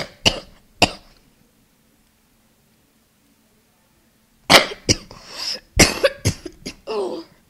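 A sick person coughs twice, then after a quiet pause lets out a burst of several harsh, close coughs in quick succession.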